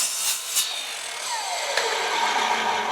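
A power saw cuts a 45-degree miter through aluminum edging, a steady bright rasping grind lasting a few seconds, close and fairly loud with no talk.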